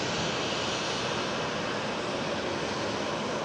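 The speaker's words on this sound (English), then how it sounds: "this KLM 737 and this KLM A321neo are having a battle. Who is louder with engine startup?" A KLM Boeing 737 jet engine starting up at Amsterdam Schiphol airport, heard as a steady, even broadband roar that holds constant loudness throughout, with no voices.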